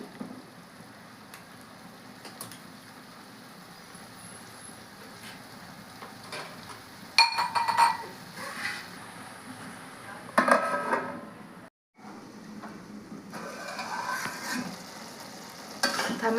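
Tomatoes with salt and turmeric cook under a lid for a prawn and egg curry, giving a soft, steady bubbling sizzle with occasional louder bursts of clatter and stirring.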